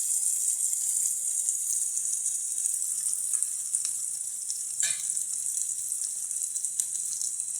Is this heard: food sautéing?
yes